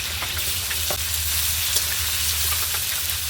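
Onion, radish, potato, tomato and banana flower fry together in a pan, giving a steady, close sizzle with faint stirring taps scattered through it and no voices.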